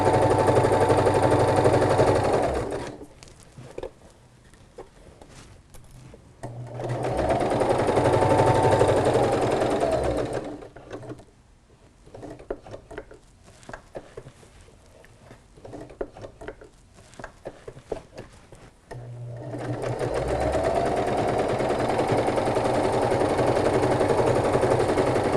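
A sewing machine stitches fabric for a pillow in loud, rapid, continuous runs, each lasting several seconds, separated by quieter pauses filled with scattered clicks and fabric handling.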